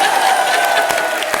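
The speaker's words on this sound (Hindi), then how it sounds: "ठोको ताली।" A studio audience claps and cheers at a comedy show, a dense burst of applause filling the brief moment.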